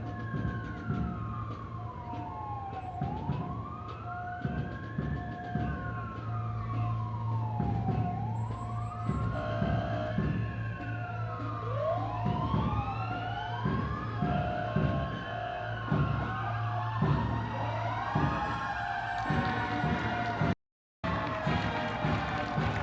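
Sirens from a parade procession of four Royal Oak Fire Department pumper trucks on a Memorial Day route in Royal Oak, Michigan, wailing up and down in repeated overlapping sweeps over a low rumble of engines and crowd, with a brief dropout near the end.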